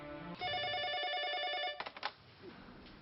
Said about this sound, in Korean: 1993년 12월 21일 전화 한 통이 걸려온다